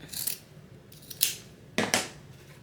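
Scissors trim the seam allowance of fabric piping in three short, crisp snips spaced about half a second apart, close and clear with no talking.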